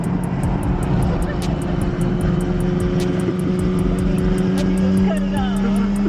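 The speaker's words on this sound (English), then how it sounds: "We got the bike in action too." A motorcycle rides down a hill on a street after a car meet, its engine a steady loud drone with shifting pitch, while people talk over it.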